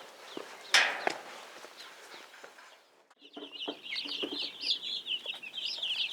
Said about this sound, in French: Il s'agit de l'élevage des poulets.